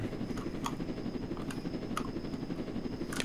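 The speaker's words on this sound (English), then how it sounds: "Oh, there's an helicopter there in the sky." A helicopter in a Roblox game gives off a steady rotor whir in the background, with a few faint clicks on top and no talking.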